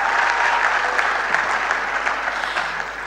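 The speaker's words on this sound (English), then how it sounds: "Please, a round of applause." An audience at a university maiden annual lecture on maritime studies applauds continuously, a dense, even patter of many hands from a sizable crowd in a hall.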